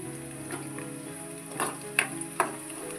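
Curry leaves hitting hot oil in a pan for a North Karnataka mustard rice dish, giving a steady soft sizzle with a few sharp crackling pops near the end, close and fairly quiet.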